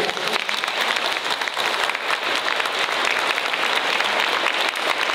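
Loud, sustained applause fills a cultural centre hall in Vidin after a fashion show, a thick continuous roar of many clapping hands without a break.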